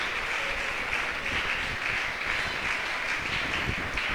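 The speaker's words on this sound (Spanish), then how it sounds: "Dele ese aplauso fuerte al Señor." A church congregation at a Spanish-language evangelical service applauds, a dense steady wash of clapping that holds evenly throughout without voices on top.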